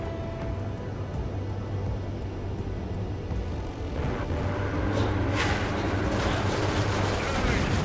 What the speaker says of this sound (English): Being attacked by enemy aircraft!